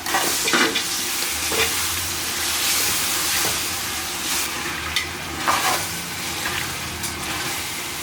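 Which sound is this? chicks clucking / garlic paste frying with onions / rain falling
garlic paste frying with onions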